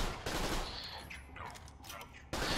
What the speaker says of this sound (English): Dahl pistols, like all Dahl guns, are sent around burst fire, typically low recoil,